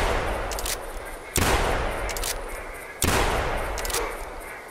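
Gunshots ring out in theHunter hunting game during a duck hunt: two loud, sharp blasts about a second and a half apart, each trailing into a long rolling echo over steady outdoor ambience.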